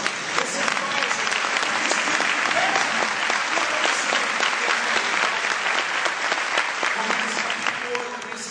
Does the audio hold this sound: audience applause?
yes